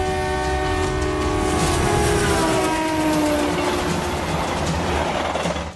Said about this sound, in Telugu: సడన్గా ఒక ట్రైన్ మనల్ని దాటుకుంటూ వెళ్తుంది